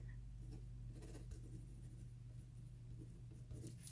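A pen writes in a Happy Planner, soft close scratching strokes running steadily over a faint low hum, with no talk.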